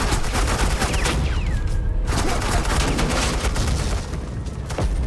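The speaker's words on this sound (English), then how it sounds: "I said suppressing fire!" Sustained suppressing gunfire in Batman: The Enemy Within, a dense continuous fusillade of rapid shots with a brief gap, loud and close throughout.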